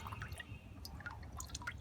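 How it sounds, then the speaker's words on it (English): Water from a freshly watered bonsai pot drips out the bottom in faint, scattered droplets, a few soft taps within a couple of seconds in an otherwise quiet room. "The water just sinks right on through. And it's coming out the bottom."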